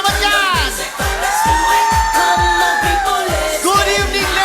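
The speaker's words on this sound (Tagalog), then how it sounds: "Palakpakan na may sigawan naman yan!" A live audience in a Filipino stage show claps and shouts in a steady, loud burst of applause, with rhythmic clapping beats and whoops and yells riding over it throughout.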